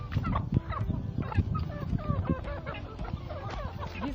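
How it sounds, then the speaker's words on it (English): Free-range village fowl, several roosters among hens, give out a busy run of close gobbling clucks and squawks, overlapping in quick irregular bursts. "We have like three roosters, if not 4, and the other ones are just a chicken."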